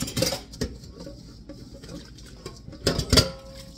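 Dishes being washed in a small kitchen sink, with scattered clinks and clatters of plates and cutlery, a sharp burst near the start and a louder cluster of knocks toward the end over quiet running-water hiss.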